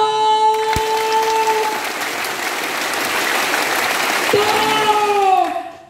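A theater audience at an Indonesian cadet event bursts into loud, sustained applause, with a whistle-like tone sounding at the start and end before the clapping cuts off sharply.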